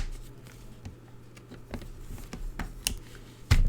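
Card stock being cut for a fold card, a series of small, crisp snips and taps at an uneven pace, close and fairly quiet, ending in a louder handling thump.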